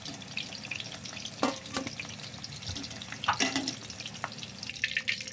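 Potatoes frying in oil in a pan give a quiet, steady sizzle, broken by a few sharp scraping clicks of stirring. No one speaks.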